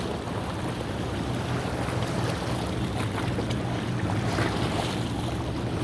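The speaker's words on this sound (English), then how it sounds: "listen to the sounds of the beautiful water and the waves lashing against these beautiful rocks" Water at Karaka Bay near Picton in the Marlborough Sounds washes against rocks in a steady, dense rush, with wind buffeting the microphone throughout and no voices.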